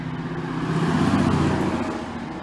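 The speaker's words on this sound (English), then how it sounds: "The main drag here. All the traffic just went by." Cars on a busy main road swell past nearby in a steady rumble that peaks midway and then fades.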